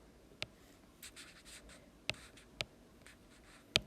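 A pen scratches across paper while a graph is sketched, soft strokes broken by a few sharp clicky taps, quiet and close with no talking.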